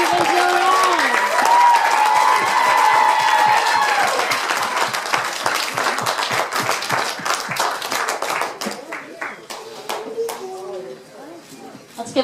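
Wedding guests at a Da Casa Banana II ceremony clap and whoop for the just-pronounced newlyweds: dense, steady applause with high cheers early on, thinning into scattered claps and murmurs toward the end.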